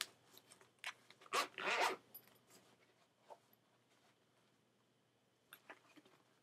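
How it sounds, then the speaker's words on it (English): The zipper on a harmonica box set case is pulled in a quick rasping run, followed by a few scattered handling clicks and zip tugs, close and quiet with no speech. "zipping system."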